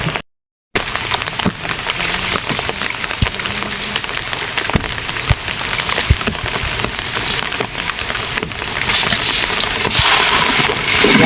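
After a brief moment of silence, rain pours onto the Moei River during net fishing as the water rises, making a steady, dense hiss with scattered splashes close by.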